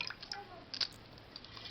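Water dripping off washed radish greens and vegetables as they are lifted out of a bowl; a few light, irregular drips and small splashes, close and fairly faint, with no talking.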